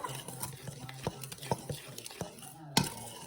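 Kosher salt being stirred into ingredients in a mixing bowl, a series of close, soft scraping strokes and light clinks of a utensil against the bowl, in an uneven rhythm.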